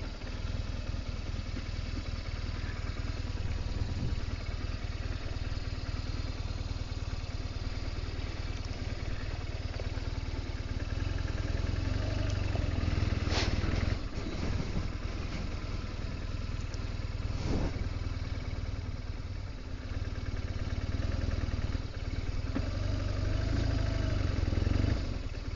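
A motorcycle engine idles and putters steadily at close range while the bike is manoeuvred at a campsite on a Scottish island road trip, with occasional clatter and brief revs.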